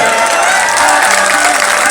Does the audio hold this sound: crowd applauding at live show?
yes